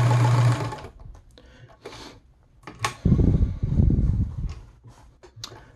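A Gritzner VZ sewing machine, also sold as the Kenmore 117.740, stitches in loud steady mechanical bursts, with a quieter pause between runs and clicking from the mechanism.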